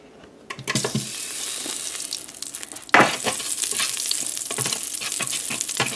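Bacon grease poured into a hot pan for pressure-cooker pork chops and cabbage, crackling into a loud, steady sizzle with a sharp burst of frying near the middle, no talking.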